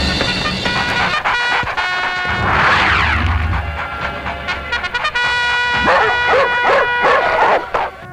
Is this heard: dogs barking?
yes